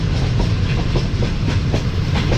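Tezgam passenger train running past Shahdara Bagh Junction, loud rolling rumble with rhythmic clickety-clack of wheels over rail joints, heard close from aboard.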